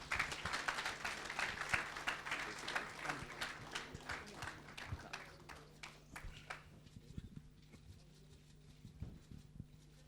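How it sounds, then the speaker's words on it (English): An audience at a cricket book launch in New Delhi claps loudly for about seven seconds, the applause thinning to scattered claps and then to near silence. "Can we get a big round of applause for Virendra Sehwag and Gautam Gambhir?"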